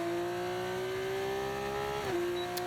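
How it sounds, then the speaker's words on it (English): A race car engine in a racing video game holds a steady high-pitched drone, dipping briefly in pitch as it shifts, heard fairly quietly with no talk over it. "Best sounding engine, think it's better than F1."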